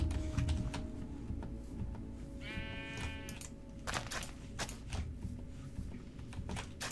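One sheep bleats once in the Minecraft video game, a wavering, nasal call in the middle of the clip, surrounded by soft clicking keyboard typing.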